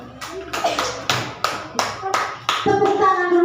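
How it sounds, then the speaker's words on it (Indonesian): A classroom of children claps for a student who gave a correct answer about area of squares, in short rhythmic bursts of hand claps, about eight beats, close and fairly loud, with a voice starting at the end. "Tepuk tangan dulu untuk Fayo."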